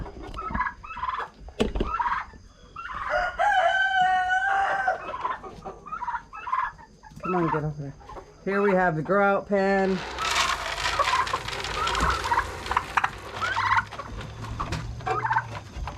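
Chickens and turkeys cluck, crow and gobble close by in an overcrowded pen, a busy flock, with someone talking among them.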